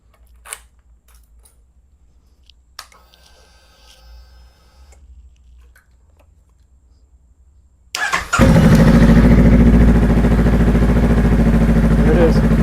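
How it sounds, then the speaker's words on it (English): A Honda Rebel 500 motorcycle engine cranks and catches partway through, then settles into a loud, steady idle close by. Before that there are only quiet clicks and handling noises. "When I start the bike up, not when I turn the ignition on, but when I actually start it up"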